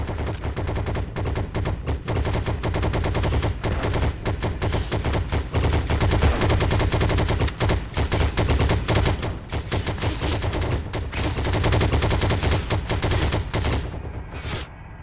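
Rapid gunfire in the World War II shooter Heroes & Generals, with dense, loud machine-gun bursts and overlapping shots rattling almost nonstop for the whole stretch, close and sharp.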